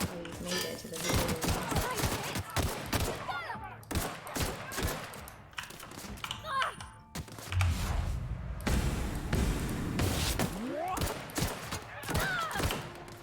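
Gunfire in the video game The Outer Worlds crackles in repeated sharp bursts and volleys throughout, mixed with thuds and a voice talking over the action.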